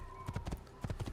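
Horse hooves clip-clop in quick, close, crisp strikes, two short groups of beats within a second, from an Assassin's Creed game horse.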